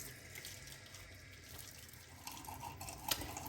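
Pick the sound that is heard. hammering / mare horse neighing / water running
water running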